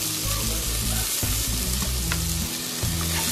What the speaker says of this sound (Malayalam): വഴറ്റിയെടുക്കാം. നന്നായി വഴന്ന് വരട്ടെ.